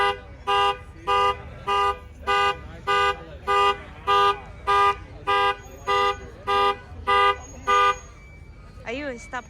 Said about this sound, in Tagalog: The kids open it. It's not supposed to. So it's alarm.